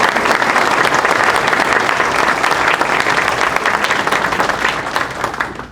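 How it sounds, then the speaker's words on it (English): A packed room applauds paramedic program graduates at a community college recognition ceremony, dense continuous clapping that stays strong and begins to taper off at the end. "let's give them a round of applause"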